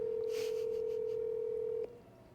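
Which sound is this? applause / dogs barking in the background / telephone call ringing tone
telephone call ringing tone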